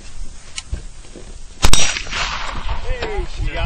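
A toy gun fires a little rubber band with a single sharp snap, close and loud, amid casual voices and background noise.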